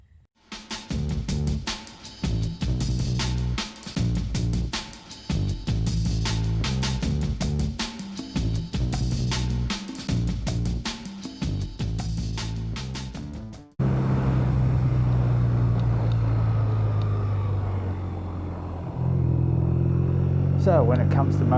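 A BMW R nineT motorcycle out on a ride: a long stretch of rhythmic, beat-driven music gives way to a loud, steady engine drone with shifting pitch as the bike cruises.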